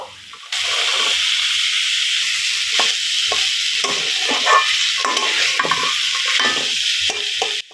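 Boiled chickpeas are stirred and cooked in a hot pan with a loud, continuous sizzle, while a spoon scrapes repeatedly across the pan in uneven strokes close up.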